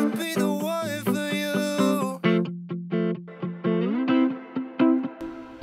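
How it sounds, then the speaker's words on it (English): An electric guitar plays a series of plucked notes and chords through a reverb effect, each ringing out into a heavy, washy reverb tail. "I'm using loads of reverb here, but you can still hear it"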